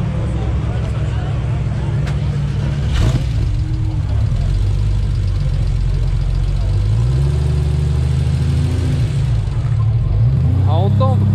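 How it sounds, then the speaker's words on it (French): An old Porsche engine cranks, catches and settles into a rough, loud idle with uneven revs, recorded up close. "ça tourne vraiment comme une voiture à l'ancienne"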